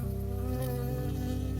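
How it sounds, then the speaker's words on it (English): A bee buzzing close by in the video game Firewatch, a steady droning hum with a wavering pitch, alone and without talk. "I got stung by a bee."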